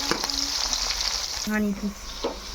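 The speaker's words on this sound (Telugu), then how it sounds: "ఇవి రెడ్గా బ్రౌన్ కలర్ వచ్చేదాకా వేపుకోవాలి." Onions and green chilies frying in a pan make a loud, steady hiss and sizzle up close, with a few utensil clinks and stirring scrapes over it.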